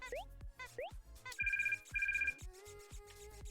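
Cartoonish phone ringing in the Toree 3D video game, with repeated bright electronic ringtone trills in quick bursts among chirpy game sound effects, fairly quiet.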